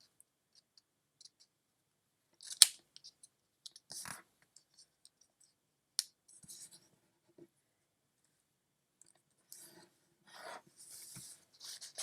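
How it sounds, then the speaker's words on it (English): Sheets of paper being creased as each of four corners is folded in to a center point for a craft project: sparse, soft rustles and scraping rubs, quiet and close, with brief louder crinkles in between long silent gaps. "We're going to take each of the 4 corners and fold them down to that center point."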